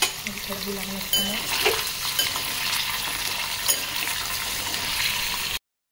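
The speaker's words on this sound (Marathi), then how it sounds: "पनीर फार नाही फ्राय करायचे, जस्ट त्याला एक चव आली पाहिजे।" Paneer fries lightly in a hot pan with a steady, close sizzle and crackle that keeps going until it cuts off abruptly.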